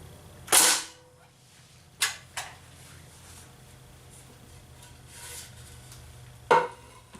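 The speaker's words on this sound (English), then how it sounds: "if you are running a nail gun, stay clear, because those nails can go off in any direction." A nail gun fires while garage shelving is built, giving four sharp, loud shots spaced irregularly apart, two of them close together, with quiet room tone and a low steady hum between bursts.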